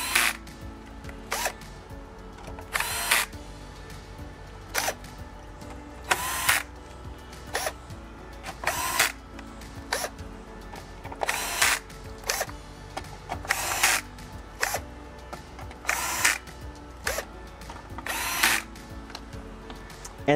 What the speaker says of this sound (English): And let's go ahead and start putting our screws back in.